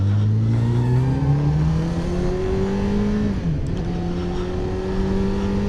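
A Honda Hornet 600 motorcycle engine revs while riding, a loud, close, sustained whine climbing steadily in pitch, dipping briefly as the rider shifts, then rising again.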